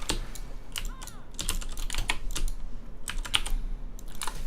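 Computer keyboard keys pressed in quick, uneven bursts during Final Fantasy V gameplay, close and fairly loud over a low steady hum, with no talking.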